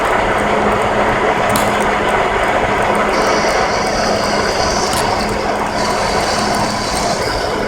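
Engine lathe running, a steady loud mechanical whir with a constant hum and gear-like chatter, high whining tones drifting in partway through, with no talking.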